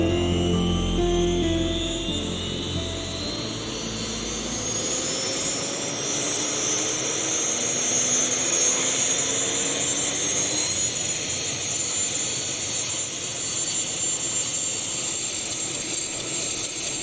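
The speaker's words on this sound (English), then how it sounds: "the twin-rotored Chinook has been in service since the Vietnam War in 1972" A twin-rotor Chinook military helicopter flies past, a loud, steady roar of turbine whine and heavy rotor noise, with the pitch sweeping as it passes and then settling into a sustained rumble. No voices are heard.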